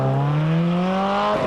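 Ferrari rally car on a Targa Tasmania stage in 1997, engine note climbing steadily as it powers through a corner, then easing off, heard alone at middle distance.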